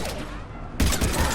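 A sudden gunfire burst in Mass Effect Legendary Edition erupts after a quieter stretch, loud and close with rapid overlapping reports continuing to the end.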